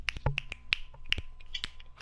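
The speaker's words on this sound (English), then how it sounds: "Snapping." Several sharp finger snaps ring out in an irregular scatter, close and crisp, with no voices in between.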